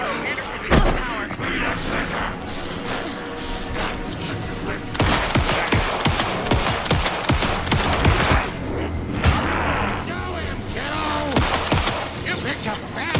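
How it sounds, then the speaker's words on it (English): Gunfire during a dark combat scene in the video game Alan Wake 2, with rapid bursts of loud shots, sharp impacts and clattering mechanisms, and voices shouting in between. "Anderson, pin him down with gunfire for me to get the light on him"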